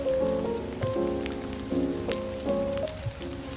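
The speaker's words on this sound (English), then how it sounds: "It's raining and we don't even have a raincoat." Rain falls steadily in the Toca Boca Life video game, a soft, even patter running beneath looping tonal game music for the whole stretch.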